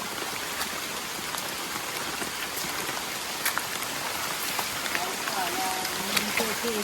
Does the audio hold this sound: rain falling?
yes